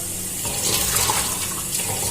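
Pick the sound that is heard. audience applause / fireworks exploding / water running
water running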